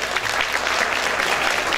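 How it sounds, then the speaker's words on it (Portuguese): Steady, dense applause from a crowd at a live music and dance show, loud and continuous throughout, greeting the drummer. "vocês vão receber com uma salva de palmas"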